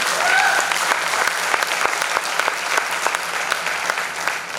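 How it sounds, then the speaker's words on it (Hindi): Loud audience applause at an agricultural knowledge seminar in India, sustained and dense with many hands clapping for the full stretch, no talk over it. "एक बार जोरदार ताली हो जाए।"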